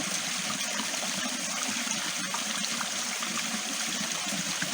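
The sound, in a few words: creek water flowing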